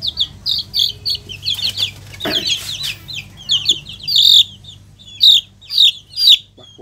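Chickens, including a rooster, cluck and chirp in a rapid series of close, loud calls that build toward the end, with no voices.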